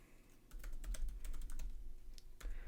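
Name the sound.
typing on a computer keyboard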